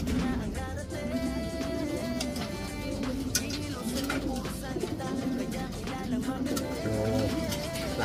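Racing pigeons cooing in a loft, low throaty coos repeating throughout against a busy background of rustling and clatter, fairly close and steady.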